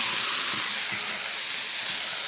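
Bean sprouts and garlic sprouts hit hot oil with garlic and dried chilies, giving a loud, dense, continuous hiss close by, broken by faint soft thumps from tossing in the wok.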